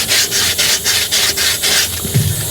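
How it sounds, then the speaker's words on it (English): A sanding block rubs back and forth along the edge of a cake dummy in a quick, steady rhythm of about ten close, raspy strokes, with no talk. "you can see that it's coming off right on that sanding block"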